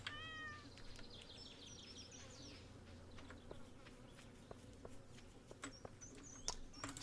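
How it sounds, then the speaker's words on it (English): Stardew Valley cat being petted on a farm gives a short high meow at the start, over a steady bed of game ambience with buzzing insect-like tones and scattered small clicks. "Pet the cat."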